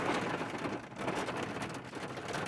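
Heavy rain pours steadily, a dense, even hiss of drops hitting surfaces that fills the whole stretch without letting up, fairly soft in level and with no voices.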